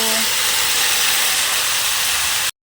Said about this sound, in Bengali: এখন দেখো আলু বেগুন ঝিঙেগুলি ভালো করে ভেজে নেব।